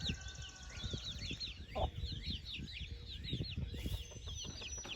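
Meat-breed hens and roosters fill a farmyard with continuous clucking and high cheeping, one sharper squawk near the middle, all over a rough, rumbling background.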